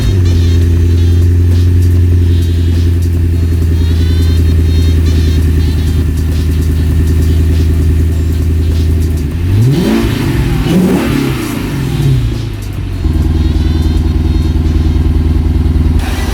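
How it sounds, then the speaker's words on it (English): Lexus IS-F V8 revving through its quad tip exhaust: a loud, steady idle drone, then a sharp rising and falling rev burst, then a settling back to idle. "it has what it's known for, the quad tip exhaust."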